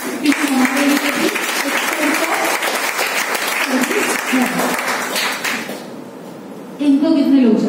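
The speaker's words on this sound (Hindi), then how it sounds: "तालियां होनी चाहिए।" A seated audience at a financial seminar talk breaks into loud, dense clapping. The applause dips briefly, then swells again, with faint voices underneath.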